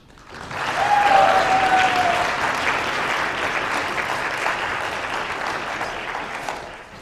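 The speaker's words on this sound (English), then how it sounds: "And finally, a round of applause for our finalists." A room full of spectators claps for the finalists at the 2024 Osgoode Cup moot final round; the applause swells within a second, then holds as a steady, even patter for several seconds before tapering.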